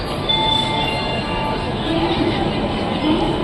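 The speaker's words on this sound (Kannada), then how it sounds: "ನಮ್ಮ ಟ್ರೈನ್ ಬರ್ತಿದೆ ನೋಡಿ one six double two seven ಮೈಸೂರಿಂದ ತಾಳ್ಗುಪ್ಪಕ್ಕೆ ಹೋಗೋ ಎಕ್ಸ್ಪ್ರೆಸ್ ಟ್ರೈನು" Express train 16227 from Mysore to Talguppa rolls in behind its locomotive with a steady, loud rumble and a faint wheel squeal near the end, heard from a nearby platform.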